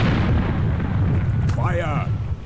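Booming cannon fire from the Air Buccaneers game rumbles low and continuously, with a brief burst and a short rising tone on top. A voice speaks over it.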